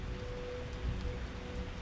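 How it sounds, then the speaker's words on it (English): Steady, faint rainfall, a continuous hiss of drops on surfaces with a low rumble beneath and no voices. "the rain is finally letting up"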